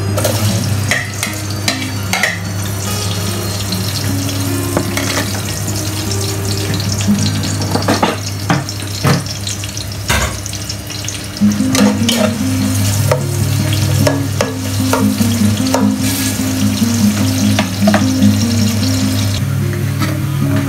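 Onion sautés in a frying pan for kare-kare, a steady close sizzle with repeated scraping and stirring strokes over a constant low hum, with no talking.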